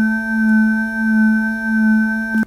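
A steady synthetic tone generated in Adobe Audition holds one unchanging pitch with bright overtones, loud and continuous, with a gentle slow swell in level, before cutting off abruptly at the end.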